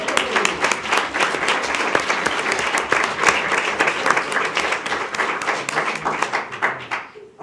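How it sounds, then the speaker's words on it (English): A school board meeting audience gives sustained, dense applause for a school's energy savings. It keeps a steady roar for about seven seconds before ending abruptly. "Let's give it a round of applause."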